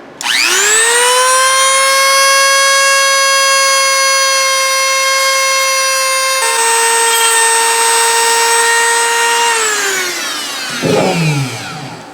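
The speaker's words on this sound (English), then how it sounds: "we're just gonna go ahead and take a Dremel and basically just grind all those off" A Dremel rotary tool grinding ridges off a plastic Swiffer WetJet bottle cap, a loud high-pitched steady whine that shifts pitch midway, then spins down and ends with a short scrape.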